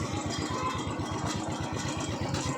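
A Royal Enfield Bullet motorcycle engine idles close by, with a fast, even thumping beat that holds steady throughout, alone and fairly loud.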